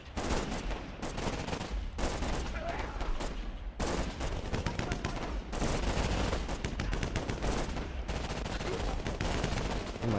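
Massed semi-automatic rifle fire in a WW1 video game crackles as dense overlapping volleys of sharp shots, broken by a few short pauses before the firing resumes, with faint voices in the mix.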